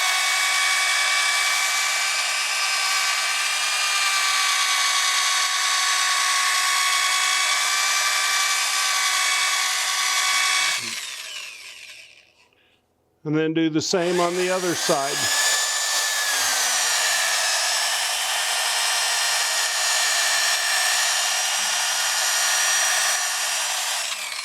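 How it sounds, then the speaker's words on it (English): A cordless drill at low speed spot-sands the end grain of a wooden bowl being turned on a lathe, giving a steady close whirring grind that stops briefly midway and then resumes, with someone speaking over it. "I'm going to spot sand that area using a low speed on my drill."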